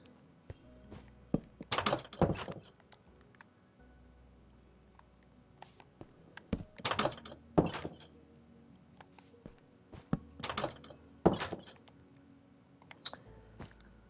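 In Minecraft, several short soft thunks and clicks of doors being placed come in scattered clusters, quiet and close, with no talk.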